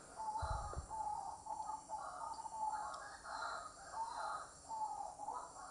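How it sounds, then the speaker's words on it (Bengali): Repeated calls of a dauki, the white-breasted waterhen, from a village, sounding as a steady rhythmic series of phrases that recur every second or so, moderately close and fairly loud over faint background noise. "আর তোমরা যে আমার পেছনে যে আওয়াজগুলো শুনছো সেটা কিন্তু পাখির ডাক।"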